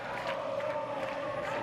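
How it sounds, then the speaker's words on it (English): A football crowd at a C.D. Walter Ferretti versus Belmopan Bandits match roars steadily, a dense, continuous wash of cheering voices at moderate level. "So now the crowd starting to get into it a little bit here"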